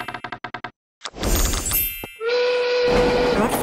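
Train departure effect in a Monopoly-style board video game: a quick run of clicks, then a rushing hiss and a sustained whistle tone rising over a rumbling, moderately loud bed.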